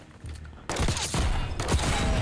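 A dense burst of rapid hand cannon gunfire in Black Ops 6 erupts after a quiet moment, loud and sustained, with overlapping shots and a booming low end.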